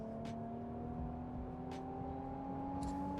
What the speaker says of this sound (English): That whoa, that wail of that twin turbo V6.